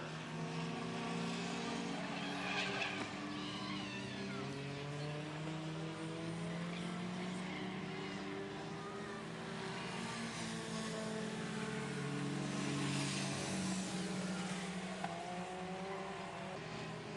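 Race cars circle Saugus Speedway in 1990, their engines droning and rising and falling in pitch as they pass at a distance, a continuous layered roar throughout.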